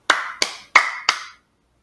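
Four sharp hand claps ring out close and dry at an even, quick pace, each with a short decay, followed by silence.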